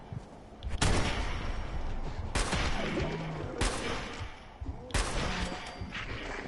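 Gunfire in the Fallout 4 video game on PS4: several sharp, loud shots spaced a second or so apart, each with a ringing decay, over a busy game soundscape.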